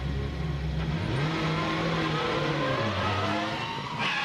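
Touring race cars on the Macau street circuit pile into one another, engines droning and revving loudly in a continuous roar with a rising squeal of tires near the end.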